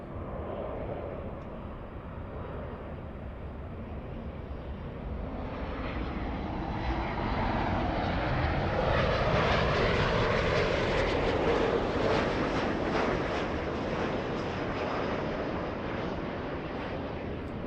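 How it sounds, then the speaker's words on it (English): A United Airlines Boeing 787-9 Dreamliner jet bound for Narita passes at LAX, its engine roar swelling from a distant rumble into a loud, broad whoosh that holds steady, with some wind buffeting on the microphone and no talk. "That's a 787 Dreamliner 787-9."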